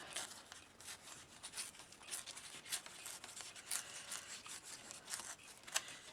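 Paper torn slowly by hand into a rough circle, held between finger and thumb: a close, continuous dry ripping with brief pauses and bursts as the tear moves around the edge.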